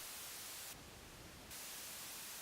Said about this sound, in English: I'm adding in about 30 or negative 45 decibels of white noise